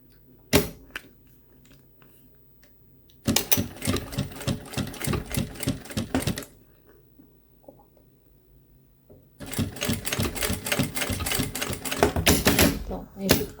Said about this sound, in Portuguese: a gente vai passar a costura aqui para juntar as pontas